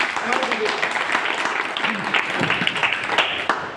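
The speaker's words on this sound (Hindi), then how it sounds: "तो मैं चाहूंगा एक बार जोरदार ताली।" An audience at a business achievers' event applauds, with dense clapping that fills the room steadily and evenly for several seconds, with no voice speaking over it.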